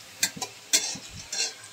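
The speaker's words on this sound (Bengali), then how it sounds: "পেঁয়াজটাকে একটু বেরেস্তা করব।" Onion fries in hot oil with whole spices for a mixed vegetable dish. Close spatula scrapes and stirs come in uneven bursts over a low, steady sizzle.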